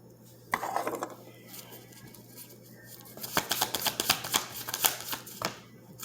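A deck of tarot cards is shuffled close by in quick riffling bursts, one brief flurry early on and a denser run of crisp flutters later, with no talking.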